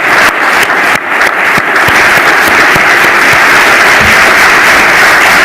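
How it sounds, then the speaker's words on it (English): Sustained applause from a conference audience honoring the organizing team at a panel event, dense and steady throughout with a few sharper claps early on. "please applaud all our team"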